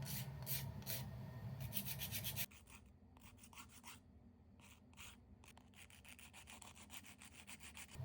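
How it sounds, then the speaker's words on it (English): Gel nail top coat being filed off by hand with a nail file, a steady rasping scrape, louder and denser for the first couple of seconds, then lighter rhythmic strokes close up with no talking. "what I like to do is just to file off the top coat before I soak them in alcohol"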